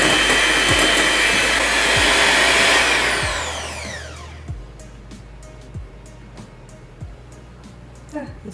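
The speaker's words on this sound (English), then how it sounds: "So now I'm going to mix it with my hand mixer." A handheld electric hand mixer whips two egg whites for macarons, whirring loud and continuous, then winding down and stopping, followed by light knocks and taps.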